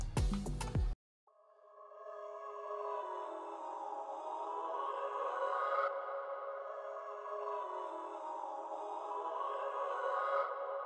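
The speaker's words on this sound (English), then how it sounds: "we got this vocal from Arcade from Distant Voices" A vocal texture sample from Arcade's Distant Voices pack, a sustained, airy, layered voice pad that swells and holds steadily after a brief loud burst at the start, heard alone without talk.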